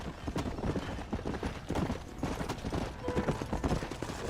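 Horse hooves galloping in the Western video game Red Dead Redemption, a steady, fast clip-clop that holds up close and loud across the clip over a dense, rumbling backdrop of game sound.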